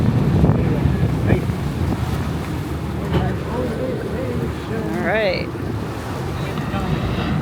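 An amphibious duck boat floating on the Wisconsin River, steady wind buffeting the microphone over a low hull and water rumble, with a few people speaking briefly.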